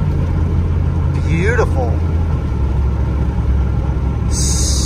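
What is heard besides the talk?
second-generation truck engine running while shifting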